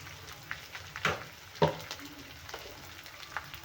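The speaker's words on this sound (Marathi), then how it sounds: "जो कच्चा वास असतो ना तो जाईपर्यंत आपल्याला परतून घ्यायचं आहे." Spices sautéing in hot oil in a pan, a soft, steady sizzle with a few louder crackles and pops, heard close up with no talking.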